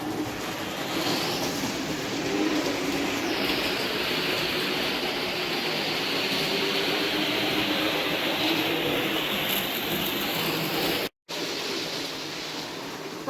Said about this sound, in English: Watching the trains go by?